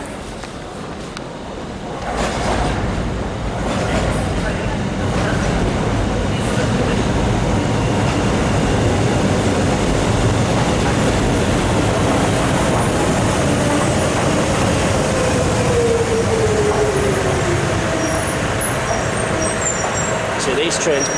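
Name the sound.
DLR train to Lewisham, London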